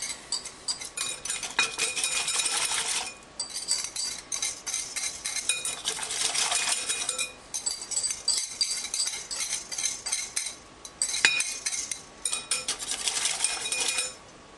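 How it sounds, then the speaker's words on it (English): Eggs go into a bowl of melted butter for chocolate chip cookies, with repeated clinks and scrapes of a utensil against the dish and bursts of stirring, close and moderately loud. "Nice melted butter. Add the eggs."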